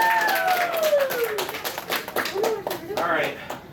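Clapping from a small convention crowd during an anime game show panel at PortConMaine 2022, sharp scattered claps under a host's animated speech and a voice sliding in pitch.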